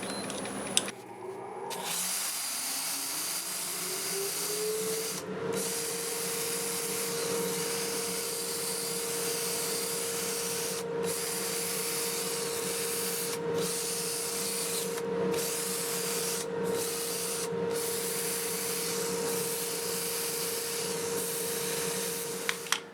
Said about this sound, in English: we'll sand our way to 400 with the lathe running forward at about 280